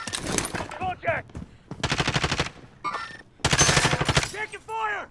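Rapid automatic gunfire in a battle royale quads video game match set in Novi Grazna Hills, several loud close bursts of machine-gun fire separated by short pauses, with game voice callouts between the volleys.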